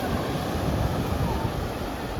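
Broad, continuous wash of sea waves heard from a boat out on the sea while fishing for prawns and crabs, mixed with wind buffeting the microphone, steady and fairly loud throughout.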